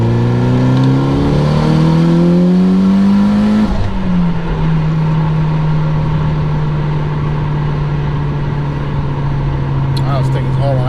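A turbocharged car engine on an E85 tune revs hard toward 6,000 RPM, its loud, close roar climbing steeply before dropping to a sustained, steady drone that holds to the end.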